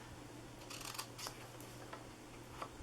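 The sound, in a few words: scissors cutting paper for a treat bag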